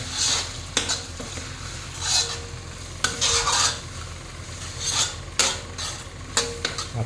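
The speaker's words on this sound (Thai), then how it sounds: "ก็ใส่ไข่ลงไปครับ ใส่ก็คนไปเรื่อยๆนะครับ" Eggs being stirred in a hot pan with garlic for seafood fried rice, a steady sizzle broken by repeated scraping strokes of a utensil against the pan at an irregular rhythm, close and clear.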